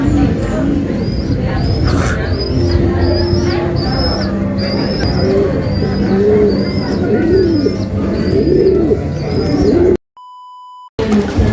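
Pigeons coo repeatedly at a loft, close and loud, with bird calls overlapping throughout and a brief electronic beep near the end.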